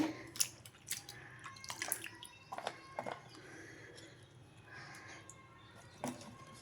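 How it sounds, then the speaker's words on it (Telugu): Bitter gourd pieces being washed by hand in salt and turmeric water, with close splashing, dripping and squishing sounds in irregular bursts, fairly quiet and with no talking. "ఇప్పుడు వీటిని కొంచెం బాగా ఇలా కడిగేసి ఒక టూ టైమ్స్ కడగాలండి"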